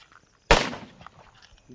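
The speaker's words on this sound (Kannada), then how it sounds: "ಪಟಾಕಿ ಹೊಡಿತಾ ಇದ್ದಾರೆ." A single firecracker bursts with a sharp, loud crack near a farmhouse, set off to scare pigs away; the bang rings briefly and then decays into quiet outdoor background.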